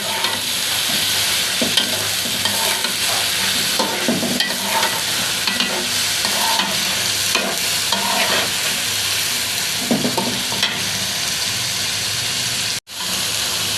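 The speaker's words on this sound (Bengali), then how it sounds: "টমেটোগুলো দিয়ে আমি নেড়ে চেড়ে নিব অনেকক্ষণ" Tomatoes and beef fry together in a pan while being stirred, a continuous loud sizzle broken by repeated scraping and clacking strokes of the spoon, close up.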